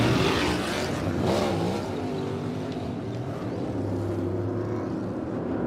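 NASCAR stock cars race at Auto Club Speedway in 2022, their engines a continuous loud roar that swells and fades slightly as the field passes, with no gaps.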